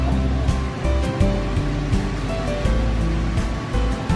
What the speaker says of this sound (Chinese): 这是茫茫无际的大海里面，感觉非常的好啊